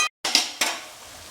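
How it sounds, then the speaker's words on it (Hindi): Spices and masala for chicken biryani stirred in a pan: a couple of short scraping stirs with a faint hiss, brief and close, with a silent gap at the start. "अच्छा भून लेंगे।"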